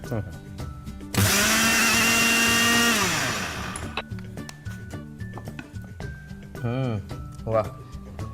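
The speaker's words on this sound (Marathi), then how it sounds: "आपण तीळ भाजून ठेवलेत ते जरा मिक्सरमधून काढूया" A mixer grinder grinds roasted sesame seeds and poppy seeds, whirring loudly for about two seconds, then spins down; voices talk before and after, with some clinks.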